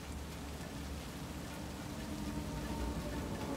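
Steady rain falls outside a door in the video game Cyberpunk 2077, a dense, even hiss of drops close by that holds at the same level throughout, with no voices.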